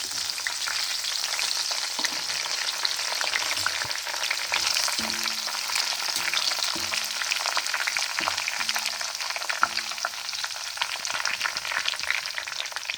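Hibiscus flowers, henna leaves and curry leaves frying in hot hair oil, giving a steady close crackling sizzle with occasional soft stirring knocks against the pan throughout.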